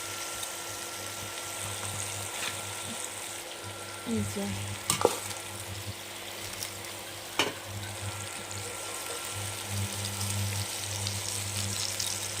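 Chopped green chillies frying in a pan for a rita fish curry with cauliflower and potato, a steady close sizzle with a couple of brief clinks from a spoon against the pan.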